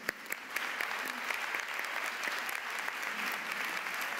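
Steady audience applause at a lecture in Montevideo by Francesco Tonucci, a continuous even patter of many hands with a few sharper individual claps standing out, sustained throughout at moderate level.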